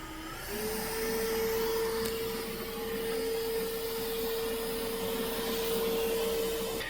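A Mova P10 Pro Ultra Gen 2 robot vacuum cleans a flattened rug and works into the corners, its steady whirring motor hum rising soon after the start and running continuously at moderate volume.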